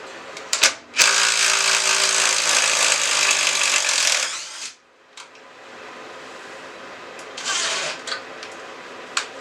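An impact driver with a 17 mm socket drives a lag screw into wood, a loud, dense burst of hammering for about four seconds after a short start, then stops, followed by quieter rustling and a brief second whir near the end.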